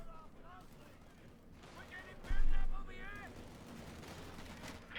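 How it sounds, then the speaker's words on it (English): Game battle sound from Company of Heroes 2, with artillery and gunfire blasts mixed under continuous commentary, one heavy low thump standing out amid the busy combat noise. "And we've got artillery called in here by the sniper."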